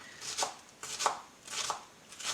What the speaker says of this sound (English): you can then chop onions pretty quickly